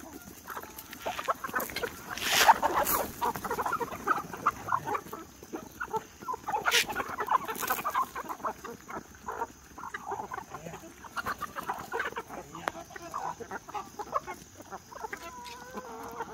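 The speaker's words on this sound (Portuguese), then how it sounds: "Isso aqui, gente, é o prato principal da roça. Galinha caipira." Free-range chickens on a Brazilian farm at daybreak cluck and murmur steadily throughout, with a few louder squawks, several birds nearby in an outdoor setting.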